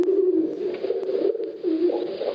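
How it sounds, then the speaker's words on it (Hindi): A pigeon coos in a low, throaty, rolling voice, repeating a soft warbling call steadily and fairly close, with no other sounds. "ये तो कबूतर है"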